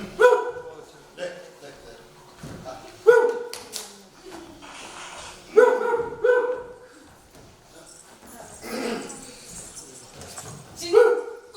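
A dog barks in short, loud bursts spaced a few seconds apart, set in a Hindi drama scene, with people talking throughout and over the barks.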